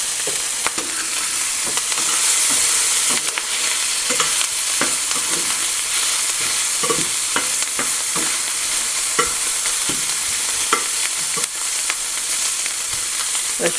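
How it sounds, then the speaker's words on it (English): Bacon and spinach sizzle steadily in an oiled pan, a loud, constant frying hiss broken by repeated scrapes and taps of a utensil stirring, with no voices. "I'm going to let this start simmering and sauteing, and I'll show you when it starts cooking."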